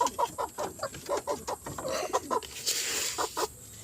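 Pet chickens clucking at feeding time, a lively run of close, short, repeated clucks in quick rhythm, with a brief rustling burst near the end.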